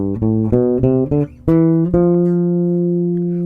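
A 4-string electric bass plays a scale fingering through a mode, a handful of plucked notes stepping along before a final note rings out and slowly decays, clear and alone.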